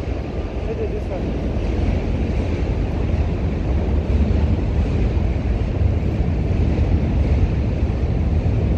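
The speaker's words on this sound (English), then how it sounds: "Train coming." Train rolling across the Manhattan Bridge in New York City, a loud, steady low rumble and roar throughout with wind buffeting the microphone, heard from on the bridge itself.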